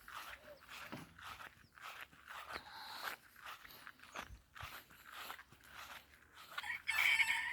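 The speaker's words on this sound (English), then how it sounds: "Good morning, chicks." Garden chickens cluck steadily and a rooster crows close by on a summer morning, with busy overlapping calls and no talk.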